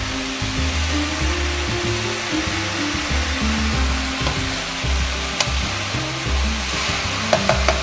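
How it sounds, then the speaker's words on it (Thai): Sliced mushrooms sizzle and stir-fry in a hot pan for a mushroom baked rice dish, a steady close frying hiss with occasional light scrapes and taps of a utensil. "พัดจนเฮ็ดเริ่มเหลืองๆและมีกลิ่นหอมออกมาเนาะ"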